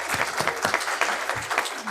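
A church congregation at a Sunday service applauds a new volunteer camera operator, a lively burst of clapping with distinct individual claps audible through the steady crowd sound.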